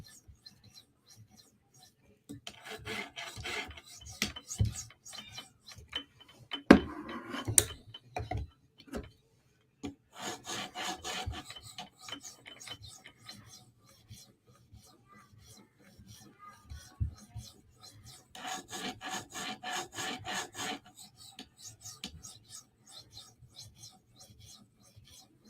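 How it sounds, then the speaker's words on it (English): Knife edge being polished on a fine grit stone with a TSProf Kadet guided sharpener, a Para 3 or Benchmade 940 blade: repeated bursts of light scraping strokes with short pauses between passes, close and fairly quiet. "You're really just polishing the edge."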